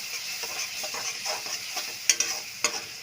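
Besan kadhi being stirred in a pan, a soft continuous scraping and sizzle with two sharper clinks of the spoon against the metal near the end, close up and without talk.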